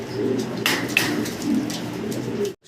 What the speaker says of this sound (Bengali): বিশাল সাইজের কি কবুতর ভাই এটা? কিং ভাই, কিং কবুতর।